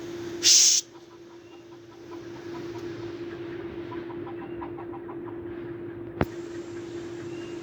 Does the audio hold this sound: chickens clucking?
yes